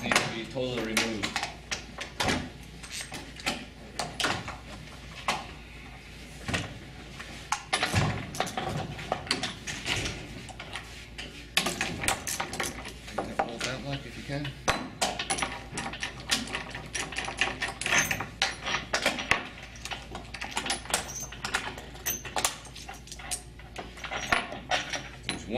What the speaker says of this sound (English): You can start undoing the latches. And these bolts need to be totally removed.